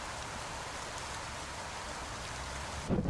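Steady rain in the American Truck Simulator driving game, a constant dense hiss of falling drops that runs unbroken throughout, with a brief low thump near the end.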